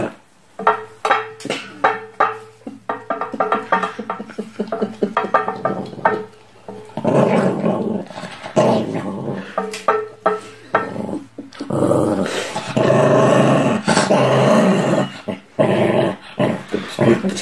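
Dogs growl and snarl up close in rough, uneven bursts that grow denser and more sustained toward the end, with light clattering mixed in.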